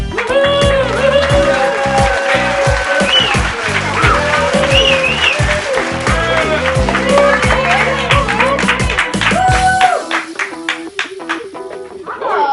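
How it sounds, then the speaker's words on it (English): An audience applauds to welcome Prince Alfred, sustained clapping mixed with loud tonal music for about ten seconds before thinning out, with voices briefly over it. "Please, everybody, give him a long round of applause."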